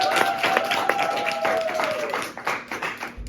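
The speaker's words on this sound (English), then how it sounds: "Let's give her a round of applause." A small high school audience claps for a teacher, scattered distinct hand claps over a background of voices and a sustained tone, fading toward the end.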